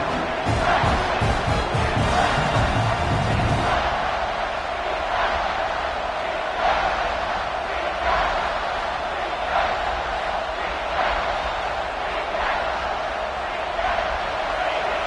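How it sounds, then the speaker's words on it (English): Loud football stadium crowd roaring continuously during a late-game Florida State vs Clemson red zone defensive stand, a dense sustained wall of noise with rhythmic surges, heavier rumble in the opening seconds. "And here comes the noise. This crowd is trying to inspire this defense to make a big red zone stop."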